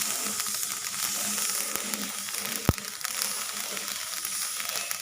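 Rice puffs and sizzles in a pan over a low fire while being stirred, a steady crackling hiss with one sharp pop, close and alone.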